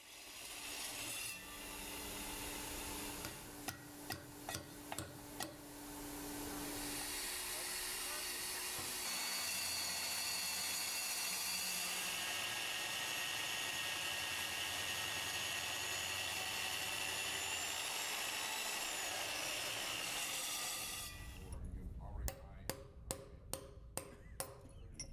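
A steady, grinding drone of a water-cooled core drill boring into a concrete floor for a floor closer runs for most of the clip, with sharp tapping bursts near the start and end.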